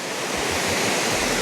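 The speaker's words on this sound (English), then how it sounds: "Now that's a slightly more impressive waterfall." Steady broadband roar of a waterfall in the Lake District, near and loud throughout with no voices.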